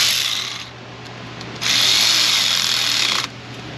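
A ratchet tightens a nut on a car battery cable in a 2016 Jeep Compass 2.4 4x4 engine bay, with a short burst of rapid clicking, a pause, then a longer, louder run of close clicking.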